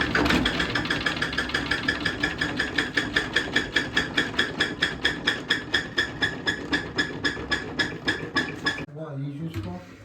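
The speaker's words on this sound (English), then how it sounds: "now spinning the honey" A centrifugal honey extractor spinning honey frames, with a loud, fast, regular mechanical pulsing whir at a steady rhythm that cuts off abruptly near the end.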